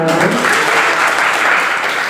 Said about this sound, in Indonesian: Oke, luar biasa sekali, tepuk tangan.